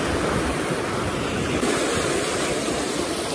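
A flooded village stream rushing past in a continuous, loud, broadband roar of churning water with no pauses.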